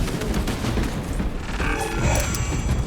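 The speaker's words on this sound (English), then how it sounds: "Charge detonated." Melter charge going off in Warhammer 40,000: Space Marine 2, a dense, continuous rumbling blast with crackling debris that holds steady for about three seconds, loud and close in a busy battle mix.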